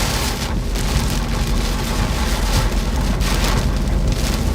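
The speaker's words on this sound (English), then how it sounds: "it's really hard to kind of hear in here with the rain." Steady, heavy rain pours down in a dense, continuous hiss with deep low rumble underneath, loud and unbroken throughout.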